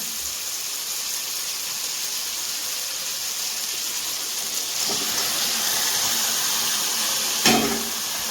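Duck meat goes into hot spiced oil in a pan, and the sizzle rises from a steady hiss into a louder fry, with a sharp clank of the pan partway through.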